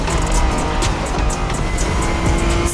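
A Honda NSX, the 1990s Japanese sports car, races in The Crew Motorfest, its engine giving a loud, continuous roar with a steady high tone that holds throughout, alone with no talking.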